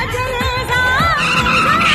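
A car brakes hard with a loud, sustained tire squeal and skid over about two seconds, the screech wavering in pitch as it slows to a stop.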